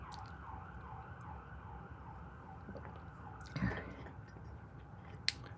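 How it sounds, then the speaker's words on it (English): Emergency vehicle sirens wailing outside, a faint, steady rising-and-falling tone heard through a room, with a brief thump partway through and a sharp click near the end. "can you hear all those sirens?"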